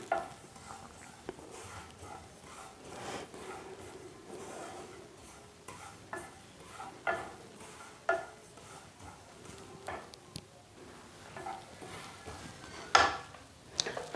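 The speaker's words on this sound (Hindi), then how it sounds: "अब तिल को भून लेते हैं" Sesame seeds dry-roasting in a pan on a low flame while being stirred, faint and close, with soft scraping, rustling and occasional light clinks of the spoon against the pan.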